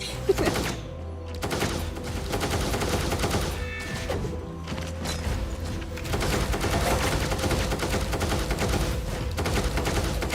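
Rapid gunfire from a soldier's gun in the video game Punishing: Gray Raven, loud and dense bursts with thumping impacts running continuously, with no talking.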